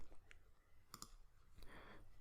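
A computer mouse clicks a few times while someone works in MATLAB, producing faint, sharp ticks over a soft room hiss, including a quick double click near the middle.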